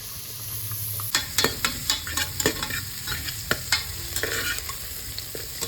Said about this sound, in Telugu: ఇప్పుడు మనం కట్ చేసుకున్న ఆనియన్స్ వేసుకొని బాగా రెడ్ కలర్ వచ్చే వరకు ఫ్రై చేసుకుంటాం.